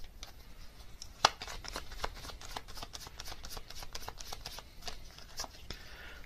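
A tarot deck being shuffled in steady, quick riffling bursts across the whole stretch, with one sharper snap of cards early on, close and moderately quiet with no talk.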